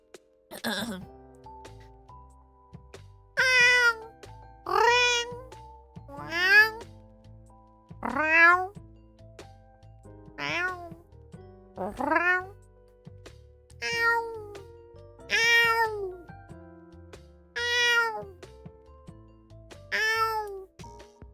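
A person's voice imitates a cat meowing, producing a steady series of about nine rising, nasal meows spaced a couple of seconds apart, close and clear with no other sound.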